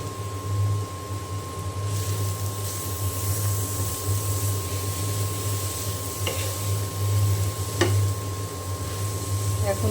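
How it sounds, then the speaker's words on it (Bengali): Grated carrots frying in ghee in a pan for carrot halwa, a steady soft sizzle with occasional stirring scrapes running throughout, alongside a constant hum and a faint steady tone. "এখন ঘিয়ের সঙ্গে একটু ভালো করে ভেজে নেব।"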